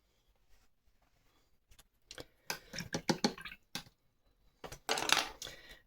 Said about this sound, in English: If I give my brush a little bit of a rinse